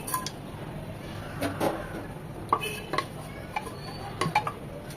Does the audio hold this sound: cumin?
yes